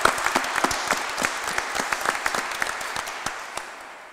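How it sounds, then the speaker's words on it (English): A crowd at a keel laying ceremony at the Vigor Alaska shipyard in Ketchikan applauds, with sharp, scattered claps from a modest gathering that thin out and fade over a few seconds. "I think we should give Bill another round of applause."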